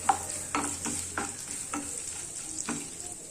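Coconut pieces frying in hot ghee in a pan for broken wheat payasam, giving a bright continuous sizzle with several scraping stirs at regular intervals, close and fairly quiet.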